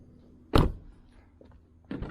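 A Toyota Corolla front door fitted with sound deadening shuts with one solid, short thud, followed by a small click and a second dull knock near the end, all close by.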